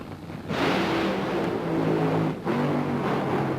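A 1996 NHRA Funny Car drag racer's engine roars loud and close with a rough, crackling bark, dipping briefly as the throttle lifts before surging again.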